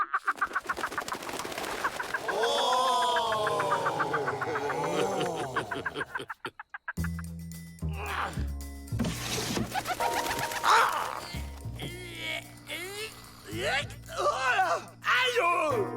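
A bird call whistle blown softly in a cartoon gives a series of warbling, fluttering chirps, followed by cartoon voices talking over a low musical backing.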